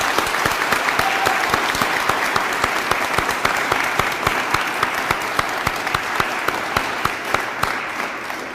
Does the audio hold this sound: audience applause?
yes